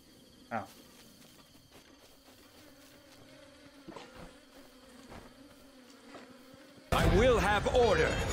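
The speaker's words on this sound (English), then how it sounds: "What, can I kill the bees?" Bees buzzing around a beehive in the video game Breath of the Wild, a faint steady drone with scattered impacts, then a loud burst of game sound near the end.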